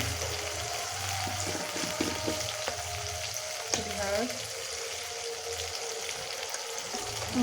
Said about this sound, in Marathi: छान परतून घेऊ. यामध्ये थोडीशी हळद घालू.